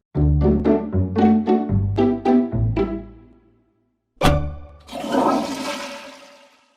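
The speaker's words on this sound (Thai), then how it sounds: "ปิดฝาก่อนกดชักโครกทุกครั้ง กันเชื้อโรคฟุ้งกระจาย" Toilet flushing in a home bathroom: a run of short knocking thuds, a pause, then a loud rushing gush of water that drains away, no voices.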